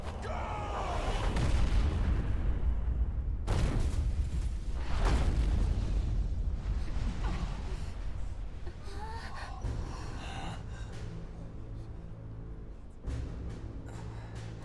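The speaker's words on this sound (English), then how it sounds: "Holy shit! Cannon fire!" Heavy booms and explosive blasts of cannon fire in the war video game Valkyria Chronicles 4, several loud impacts with rumbling low end over a dense battle background.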